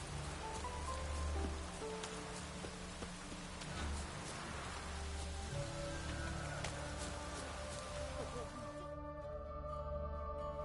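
Rain falls steadily in The Witcher 3, a continuous wash of droplets spread across the whole clip, layered under game music and ambient tones that cut out near the end.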